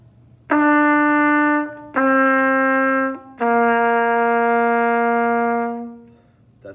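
Three sustained trumpet notes played one after another, each held for a second or more with brief gaps, clear and close with no talking.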